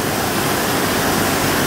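Heavy rain pours down in Chalatenango, El Salvador, a dense, steady hiss that stays loud and unbroken throughout, with no voices over it.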